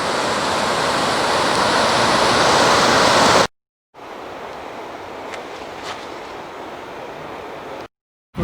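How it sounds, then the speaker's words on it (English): Two waterfalls on a split creek in the Colorado wilderness roar steadily up close, a dense broadband rush broken by two short cuts, the second stretch slightly softer and more distant. "We've got 2 waterfalls, so I guess it's No-Name Creek is split."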